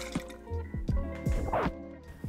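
Plymouth Gin pours into a cocktail in short splashy bursts and drips, close and clear, a few uneven glugs landing in the glass.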